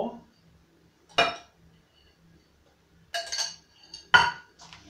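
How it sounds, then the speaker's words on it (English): A spoon clinks against a bowl while chocolate peanut butter brownie mixture is gently folded, giving a few sharp, separate clinks with near-silence between them. "just gently mix a figure of 8 and fold it in nice and gently"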